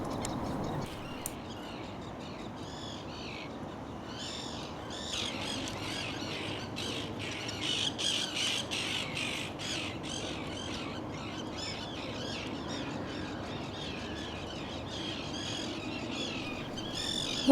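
Common terns call over a colony on the Lagan, a chorus of harsh, repeated squawking cries from many birds at middle distance, building and continuing steadily over a soft background.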